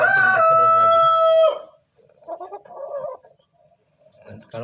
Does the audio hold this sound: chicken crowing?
yes